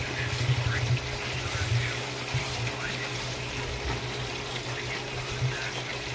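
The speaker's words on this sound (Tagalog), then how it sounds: "Lagyan natin ng konting tubig yan guys. Para palambutin natin." Water is poured into a cooking pot of tulingan fish with bay leaves, a continuous close gushing and splashing that runs steadily for several seconds without speech.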